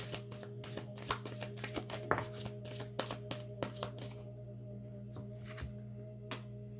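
Tarot cards being shuffled by hand in a quiet room, a series of crisp riffling and slapping bursts at irregular intervals over a low steady hum.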